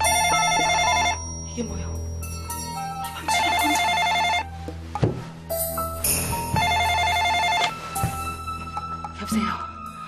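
A telephone rings in repeated electronic bursts, loud and close, with a short spoken question and other voices and sounds between the rings.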